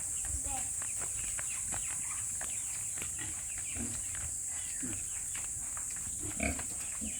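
Pigs on a farm grunting and snorting in short, scattered bursts, near and moderately loud over a steady hissing background, with people talking at times.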